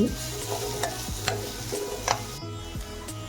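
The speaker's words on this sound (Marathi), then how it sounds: "हे वाटण आपल्याला छान आता तेलामध्ये थोडंसं शिजवून घ्यायचं आहे आपल्याला" A ground masala paste cooks in oil for traditional black urad dal, stirred steadily with a utensil that knocks and scrapes against the pot over a frying sizzle, close and without speech.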